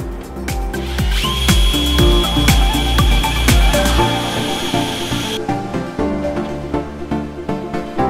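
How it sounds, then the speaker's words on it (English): A power drill whines up loudly in rapid bursts while drilling into a van, its motor pitch rising and falling, then settles into a quieter steady run near the end. "Drill these first."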